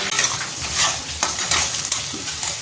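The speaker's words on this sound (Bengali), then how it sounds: "যে চিংড়ি মাছ ভাজছি এখনো" Prawns sizzle and spit loudly in a hot pan, with occasional scraping stirs of a spatula and no voices.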